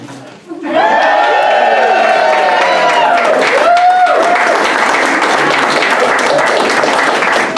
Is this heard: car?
no